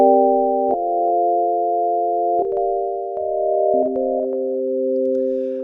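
Long sustained synth chords pass through the Escape Artist delay plugin, loud and clean, changing every second or two with a gentle pulsing swell in level and no voices over them.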